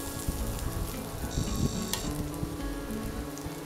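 Chopped ginger fries in oil in a wok for a vegetarian chhana curry, making a continuous crackling sizzle with scattered pops and faint tonal background noise.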